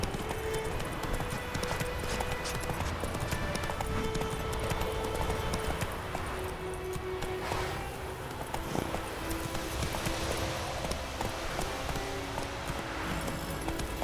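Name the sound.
horse galloping in The Witcher 3 video game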